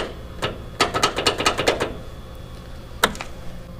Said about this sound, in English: Sounds like the starter's stuck.